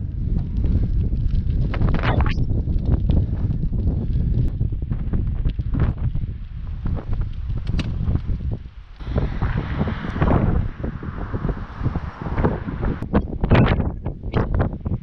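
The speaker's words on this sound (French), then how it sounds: "Souffle le vent." Strong coastal wind behind Cap de la Revellata near Calvi, Corsica, buffets the microphone in a constant roaring rumble, gusting louder at times, with a steady hiss of air and water in the background.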